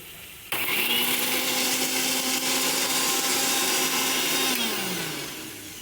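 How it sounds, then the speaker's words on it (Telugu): A mixer grinder blending cardamom with a little water, a loud steady whirring motor that starts abruptly, holds its pitch for several seconds, then winds down as it switches off. "ఇంకా మిక్సీ పట్టుకోవాలన్నమాట."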